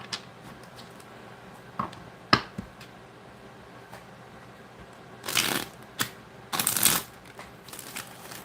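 Tarot cards shuffled during a live reading, a quiet room with a few soft card taps early, then two dense bursts of riffling and flicking near the end, close and clear with no talk over them.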